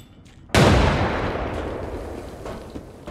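A grenade explosion in the shooter Arena Breakout Infinite, one sudden, loud, close blast after a short quiet stretch, followed by a long rumbling decay that fades over several seconds.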